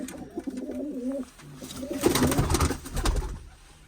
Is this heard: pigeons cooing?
yes